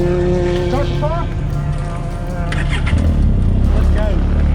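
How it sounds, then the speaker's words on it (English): Off-road race car at King of the Hammers cranks and fires up, its engine rumbling loudly nearby while people talk over it. "Start the car."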